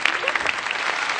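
An audience applauds women contestants on a comedy game show, with dense continuous clapping throughout a short burst.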